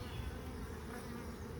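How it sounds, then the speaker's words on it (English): Agitated honeybees buzz steadily around beehives, a dense, continuous drone of many wings close by with no voices over it. "There's one of these hives over here has angry bees."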